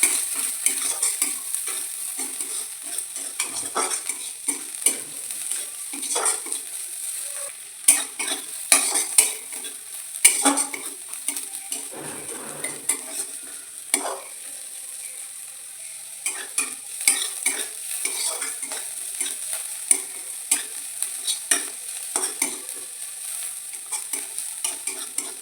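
Chopped ginger, garlic and green chilli stir-fry in a pan for a chicken roll, a constant bright sizzle with frequent scraping, clinking stirs of a utensil against the metal, close and without talk.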